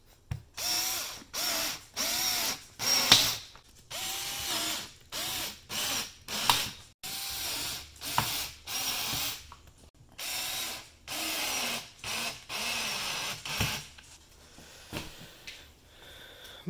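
A power driver runs screws into a vinyl picket fence in repeated whirring bursts of about a second each, separated by short pauses, close and fairly loud, with no talking.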